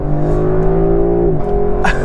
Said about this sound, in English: That's like old school muscle car sounds, or maybe a little bit more Mercedes AMG